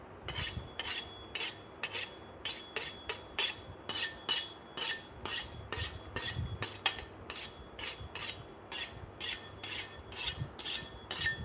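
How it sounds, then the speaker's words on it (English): Kitchen knives are sharpened with a steady run of rasping strokes, about two per second, close and clear over low room noise, with no talking. "Let's get these knives sharpened up."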